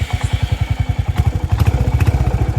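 A Royal Enfield Hunter 350 single-cylinder engine thumps at a steady idle, a close, loud, even pulse of low beats with faint mechanical clatter above it.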